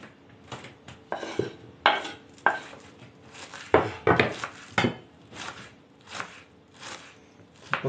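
A knife chops boiled eggs for okroshka on a board, making sharp, uneven thuds in quick bursts and pauses, close and clear, with no talking.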